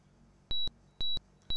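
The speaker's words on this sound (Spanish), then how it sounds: "Ha pitido." An Amstrad PCW computer gives three short, identical high beeps about half a second apart, loud and clean over a faint hum, with no voices.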